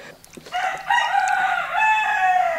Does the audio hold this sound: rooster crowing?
yes